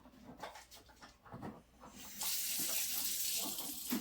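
A kitchen tap runs lukewarm water into a cup, a steady, full hiss of flow starting partway through after some soft handling noises, continuing to the end.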